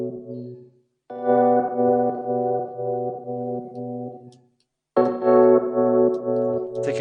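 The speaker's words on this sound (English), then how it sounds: "So this is delay. We can basically use delay instead of reverb." A vocal run through a slapback delay, short sung phrases each trailed by a quick repeated echo, with a clear break of silence between takes.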